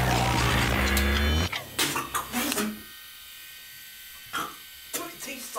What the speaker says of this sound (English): Jotaro, why am I shaving again, Jotaro?